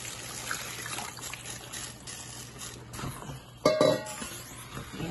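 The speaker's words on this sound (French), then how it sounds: "On va ajouter de l'eau." Water poured into a pot of grouper fish-head soup, a soft trickling and splashing that swells briefly near the end with a faint clink of the pot, over steady kitchen background noise.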